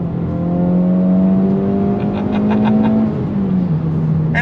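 Honda Civic Type R FL5 with a titanium exhaust revving on throttle, a loud close engine note rising and falling steadily through several seconds, alone without talk.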